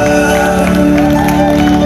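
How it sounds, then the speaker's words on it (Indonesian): A crowd applauds and cheers for police officers being promoted in rank at a ceremony, with steady, dense clapping running throughout alongside sustained tonal music. "Mari kita tepuk tangan buat teman-teman kita."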